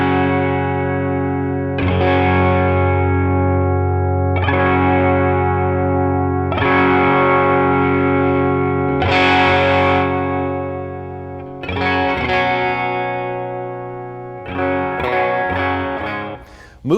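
Electric guitar played through a Quilter Aviator Gold amp with its high cut knob adjusted: sustained distorted chords restruck about every two and a half seconds, with chorus-like shimmer and reverb, loud and continuous.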